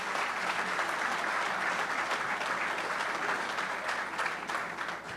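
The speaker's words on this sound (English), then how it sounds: "Give yourselves a round of applause." Sustained applause from a large crowd at a political debate, steady dense clapping filling the whole stretch and tapering slightly at the end.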